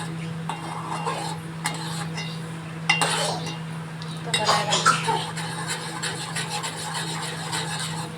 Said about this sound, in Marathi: दूधला परत हलवून घ्यायचं, चांगल्यापणाने मिक्स करून घ्यायचा